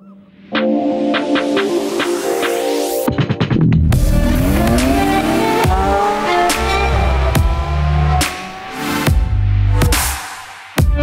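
McLaren 720S sports car roaring close by as it accelerates hard through rising gear sweeps, with tires squealing and chirping during sharp manoeuvres and brief gaps between bursts of engine noise.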